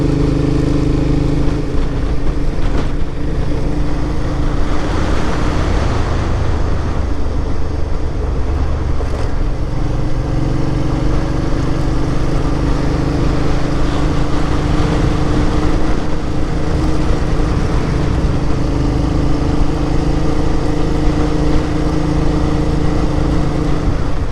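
Suzuki V-Strom 650 motorcycles riding on gravel in the Utah backcountry, a loud continuous engine drone with wind rush and tyre crunch that holds steady for over twenty seconds.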